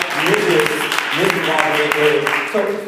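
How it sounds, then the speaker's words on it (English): A church congregation claps in praise during a service, a steady burst of applause lasting about three seconds with voices calling out over it. "Give God a hand, clap of praise."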